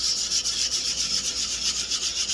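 Baltic birch wood is sanded by hand with 220 grit sandpaper, a close, steady rhythmic rubbing and scratching in quick back-and-forth strokes, heard alone.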